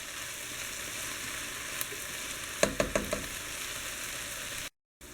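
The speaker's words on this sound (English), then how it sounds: "So now that the butter has melted, we're going to add the flour." Melted butter sizzling softly in a pan as flour goes in for a roux for chicken pot pie, a steady quiet fry broken by a few sharp taps and clinks before a brief cut to silence.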